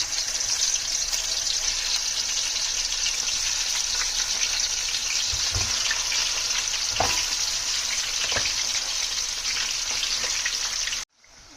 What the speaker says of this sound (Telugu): మసాలా పట్టించి నూనె దాకలో వేసాము